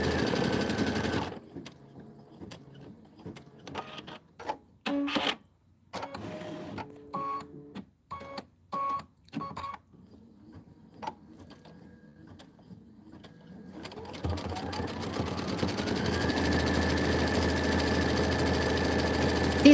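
Embroidery machine stitching out the outer border of a Kimberbell holiday pillow, its needle running in short bursts with gaps, then settling into a steady continuous hum and rapid stitching near the end.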